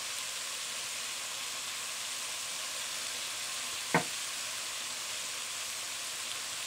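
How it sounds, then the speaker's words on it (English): Beef browning in a pot for a beef and stout stew, a steady broad sizzle held at an even level throughout, with a single sharp tap partway through. "While the meat is browning"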